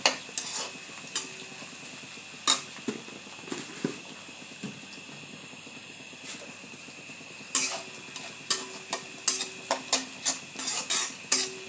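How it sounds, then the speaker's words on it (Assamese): A spoon stirs duck and ash gourd cooking with salt and turmeric in a pot, giving repeated scraping and clinking strokes against the metal over a soft sizzle, close and irregular, with quiet gaps between bursts. "আৰু ভালদৰে লৰাই লৈছোঁ"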